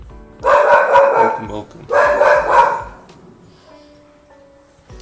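A dog barks at the postman in two loud, close bursts of rapid barking, each lasting about a second, followed by quieter room sound; a voice speaks briefly.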